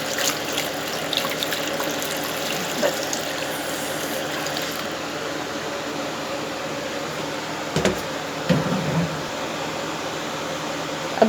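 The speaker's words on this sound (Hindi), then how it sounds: "अब इसमें डालेंगे पानी।" Water runs steadily into a cooking pot of haleem being prepared for Muharram, a continuous broadband pouring wash with a brief splashy break near the end, close by and with no talk.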